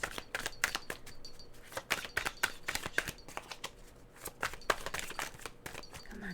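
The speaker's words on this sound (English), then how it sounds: "Let's shuffle." Tarot cards are shuffled by hand up close in a quiet room, making a run of quick, uneven papery riffles and taps.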